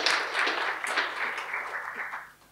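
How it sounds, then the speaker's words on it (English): Audience applause at a Life Saving Victoria aquatic industry workshop, a steady wash of clapping from a room of people that holds for a couple of seconds and then tapers away. "just a round of applause for Chris for getting this together"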